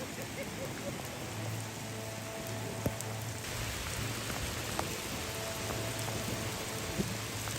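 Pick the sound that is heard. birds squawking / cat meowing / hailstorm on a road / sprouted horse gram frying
hailstorm on a road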